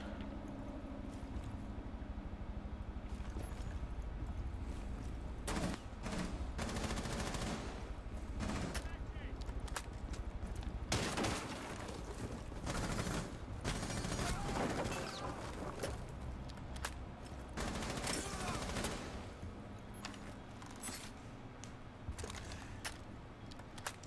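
Gunfire in a competitive shooter match during an ESL North American qualifier, scattered bursts of shots ringing out over continuous game ambience and casting chatter.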